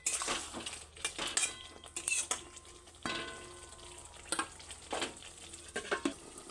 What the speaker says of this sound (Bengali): এর মধ্যে আমি ভেজে রাখা পটলগুলো একে একে দিয়ে দিচ্ছি এবার একটু কিছুক্ষণ নাড়িয়ে নিয়ে ঢাকা দিয়ে দেবো